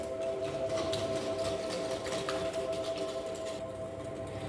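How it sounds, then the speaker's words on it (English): Eggs and vanilla being mixed into chocolate chip muffin batter, heard as a continuous, even mechanical whirring that stays loud and close for the whole stretch, with no speech. "I'm going to add the 2 eggs"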